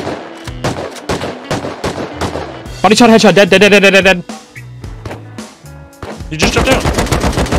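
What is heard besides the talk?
gunshots in video game Rust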